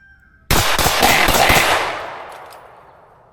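An LWRCi IC A5 rifle with a 10.5-inch barrel fires a rapid string of about six loud, close shots during recoil-control drills, followed by a long fading echo.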